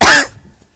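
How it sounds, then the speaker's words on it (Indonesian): An audience member at a religious lecture gives a single loud, close cough that fades quickly into near silence. "Nah, sampai batuk tuh."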